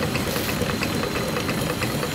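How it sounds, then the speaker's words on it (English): Triple transferator Stirling engine running on a canoe, driving the boat's shaft, with a steady rapid mechanical ticking and chugging rhythm over continuous hiss. "But being a Stirling engine, it just goes on and on and on."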